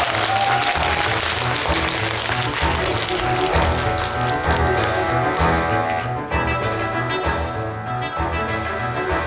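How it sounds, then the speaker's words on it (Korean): Sustained audience applause fills a cinema auditorium at a special talk event at Lotte Cinema World Tower, dense and loud clapping throughout with faint cheering mixed in. "박수로 환영해 주세요."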